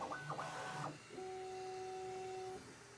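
Bambu Lab P2S 3D printer running, its stepper motors giving steady tonal whines that shift pitch in stepped moves over a constant fan hum, close and fairly quiet with no talking.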